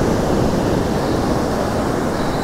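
Ocean surf washing onto a California shore while fishing for striped bass, a continuous loud rushing roar of breaking water and backwash with no voices.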